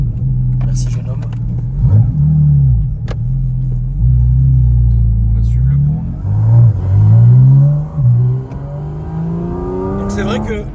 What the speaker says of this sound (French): le vrai bruit Porsche authentique